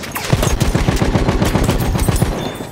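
Sustained automatic gunfire in the Battlefield 1 video game, a loud, steady stream of rapid shots close by, running the whole way through with no talking.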